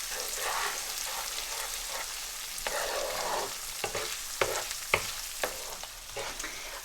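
Whole spices sizzle and fry in a pan for a Reshami Malai Chicken recipe, a steady crackling hiss with a few sharper pops and light stirring toward the end.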